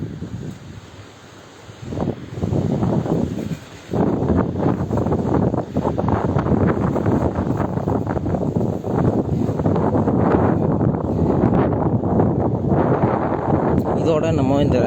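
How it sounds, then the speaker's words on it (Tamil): Strong wind on a hilltop roars and buffets the microphone in loud, continuous gusts, with a voice speaking briefly at the start. "நல்ல காற்று."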